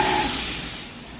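Lemony brown-butter sauce simmering in a pan, a steady close sizzle and bubbling hiss that fades slightly over a second, with no talking.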